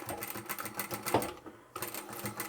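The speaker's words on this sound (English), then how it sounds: "I'm just going to sew along the bottom." Sewing machine running fast stitches along the bottom edge of fabric chapstick holders, a rapid steady whir that briefly halts, then starts again.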